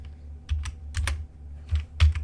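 Typing on a computer keyboard: scattered close keystrokes in small clusters, a few soft taps with brief gaps, over faint low room hum and no talking.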